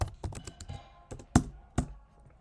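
Keys clatter on a computer keyboard in quick irregular bursts, a cluster of rapid strokes early on followed by a few louder isolated taps, close and clear with no talking.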